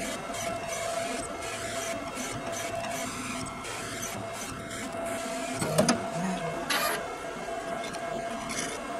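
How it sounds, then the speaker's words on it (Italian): A Primera Eddie edible cake decorating printer runs steadily with a soft mechanical whir and faint rubbing, with a few brief clicks and a short high whine near the end. "la stampante perfettamente riproduce la grafica"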